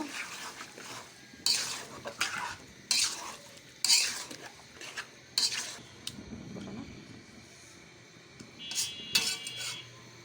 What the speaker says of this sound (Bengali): এখন আমি তেলে ছেড়ে দিব এখন আমি নেড়ে দিব